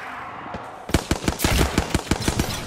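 Rapid automatic gunfire from an Apex Legends match breaks out after a brief lull and runs as a loud, close, evenly spaced burst of about a dozen shots over a steady background hum.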